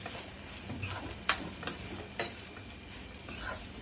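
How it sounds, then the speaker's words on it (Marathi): Spicy food for Schezwan rice is sautéed in a pan, with a low sizzle under scattered, ticking spoon taps and scrapes of stirring, heard up close with no talking. "असं 2 मिनटं परतून घ्यायचं"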